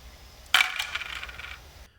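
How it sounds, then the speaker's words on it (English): Six plastic dice tossed together during a Warhammer 40k Combat Patrol tabletop game: one sharp clattering burst of tumbling and rattling that settles over about a second, close and alone. "we're going to roll 6 dice"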